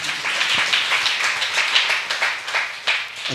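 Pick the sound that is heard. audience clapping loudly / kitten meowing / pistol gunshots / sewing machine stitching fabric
audience clapping loudly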